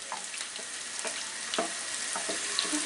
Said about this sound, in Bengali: দিয়ে পেঁয়াজটা একটু নরম হওয়া পর্যন্ত ভাজবো